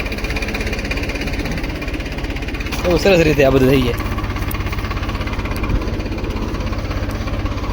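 A steady tractor engine drones throughout in a farm field, with a person speaking briefly over it partway through.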